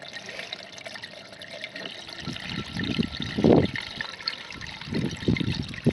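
Water from a fish pond runs into a homemade PVC filter tank, a steady trickling and gurgling that swells into a louder surge of pouring midway before settling back to a continuous flow.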